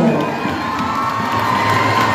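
Crowd of spectators cheering and shouting, including children's voices, welcoming a school rhythm band at a city anniversary celebration in a plaza; dense, steady roar of voices throughout.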